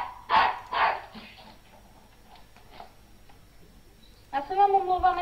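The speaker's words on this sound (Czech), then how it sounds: "Já se vám omlouvám, jestli slyšíte mýho psa" A dog barks indoors, two loud close barks followed by a few fainter ones, and a person speaks near the end.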